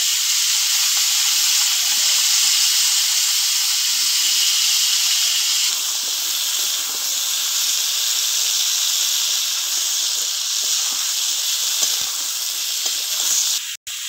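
Vegetables frying in a hot onion, garlic and spice paste, making a loud, continuous hissing sizzle that holds steady throughout, with a faint clatter near the end.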